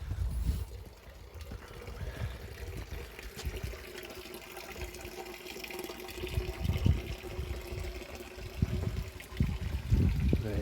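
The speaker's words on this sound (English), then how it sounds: "Here is the water feature that is finally completed." A finished garden water feature trickling and pouring steadily outdoors, a soft continuous splash with low rumbling wind or handling noise underneath and no voices.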